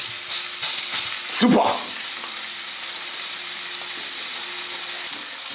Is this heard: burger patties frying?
yes